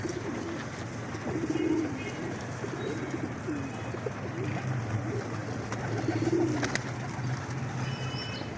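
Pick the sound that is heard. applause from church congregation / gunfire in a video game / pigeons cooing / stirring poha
pigeons cooing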